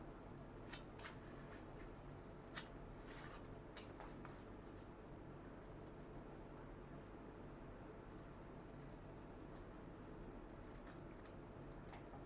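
Scissors snip through paper at an art workshop table: a handful of quick, sharp, close cuts in the first few seconds, then quiet paper rustling and faint handling sounds, with no talk.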